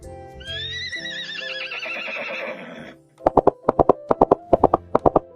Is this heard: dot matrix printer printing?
no